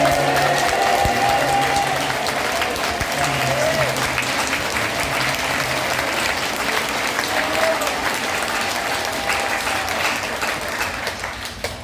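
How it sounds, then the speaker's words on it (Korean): Church congregation clapping loudly and steadily throughout, a dense sustained wash of applause with faint voices mixed in. "크게 박수하며 하나님께 아멘 연속하여 영광을 드립니다"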